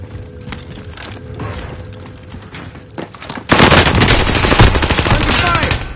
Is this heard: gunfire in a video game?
yes